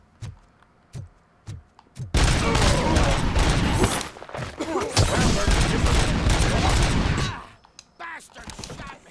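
Sustained burst of rapid gunfire with heavy impacts in the Robocop: Rogue City video game, loud and dense for several seconds, preceded by a few isolated shots and followed by quieter thuds.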